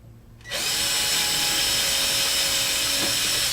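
Silence gives way to a power drill spinning up and running steadily, loud and close, with a high whine as it bores holes in a 50cc ARF model airplane build.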